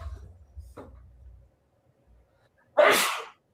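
A single sharp, loud sneeze bursts out near the end after low murmuring and a brief pause.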